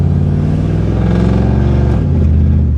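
A repaired Camaro engine runs loud and close, a steady deep idle rumble with a brief dip in pitch partway through.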